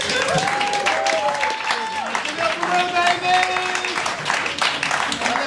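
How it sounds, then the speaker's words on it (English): A comedy club audience in Scotland claps and cheers loudly and continuously while people talk and call out over the applause. "keep that applause going"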